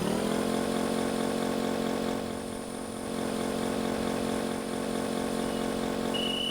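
Motorcycle engine in OJOL THE GAME holds a steady buzzing drone at constant pitch, dipping slightly midway, with a faint higher whine near the end and no talk.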